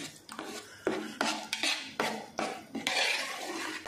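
Spoon scraping and clattering against a pan while thick tomato masala paste for biryani thokku is stirred over a low flame, in irregular nearby strokes with no voices.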